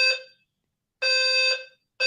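A fire alarm sounds in loud, piercing electronic tones, repeating in roughly half-second bursts separated by short gaps, close and without talking.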